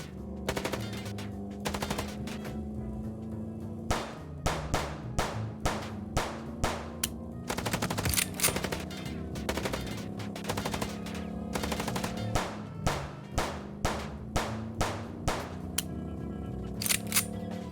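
Repeated game gunfire in Chicken Police, with sharp shots in irregular bursts and rapid volleys over a steady low rumble of background music, loud and close throughout.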